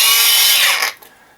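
A cordless angle grinder with an overheat and tilt safety cutoff whines loudly and close up for under a second, then spins down quickly into near silence. No voices are heard.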